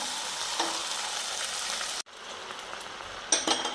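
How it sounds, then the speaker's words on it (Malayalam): A hot pot of green gram payasam hisses and sizzles steadily as milk is poured in little by little; the sound briefly cuts out, then resumes with a sharper bubbling burst near the end. "നമുക്കിതിലേക്ക് കുറേശ്ശെ പാൽ ഒഴിച്ചു കൊടുക്കാം"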